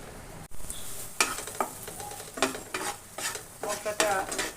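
Masala sautés in oil for a vegetarian soybean curry, a spoon scraping and stirring the thick paste in rhythmic strokes over a steady, close sizzle, with no one talking.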